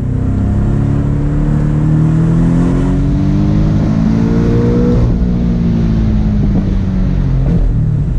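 Porsche 718 Boxster GTS exhaust in Sport Plus mode revving loud and close, engine note rising and falling through gear changes with steady wind and road noise underneath.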